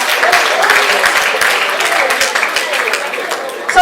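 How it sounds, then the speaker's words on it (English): An audience at a Nnewi women's league celebration in Lagos claps in a dense, steady burst of applause that carries on for several seconds before tailing off. "So give him a big round of applause."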